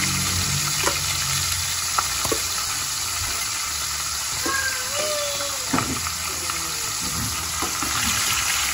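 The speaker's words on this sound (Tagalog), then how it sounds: "Habang piniprito po" Milkfish (bangus) frying in a pan before buttering: a loud, steady, dense sizzle with crackles throughout, occasional knocks and faint background noises, close and continuous.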